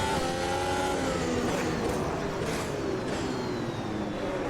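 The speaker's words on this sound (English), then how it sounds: "An awful lot of wheel spin there." Formula race car in Automobilista 2 spinning its rear wheels at a race start: loud, sustained, high engine revving with rising, sweeping tones and several cars roaring close together.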